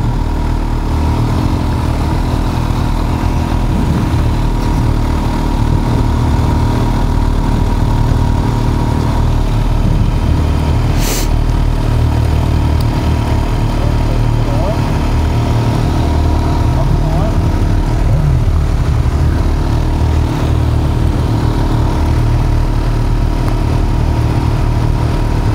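A 2021 Kawasaki Ninja H2 SX motorcycle engine roars continuously under hard acceleration, loud and steady with heavy wind rush throughout, while riders talk over it.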